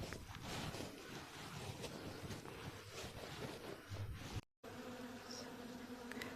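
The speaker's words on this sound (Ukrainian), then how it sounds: "Витягли декілька зайвих рамочок з сім'ї, а бджілки вже тут, як тут." Honey bees swarm around extra frames pulled from a hive and robbing honey, making a dense continuous buzz close to the microphone with some wind rumble and a brief dropout.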